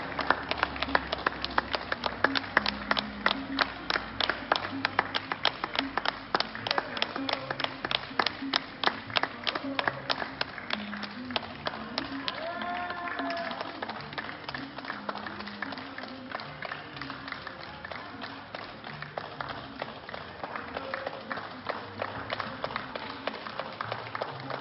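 Sustained applause from people at windows in Paris's 18th arrondissement during the lockdown, dense steady clapping echoing between buildings for the whole stretch, with faint voices and cheers mixed in.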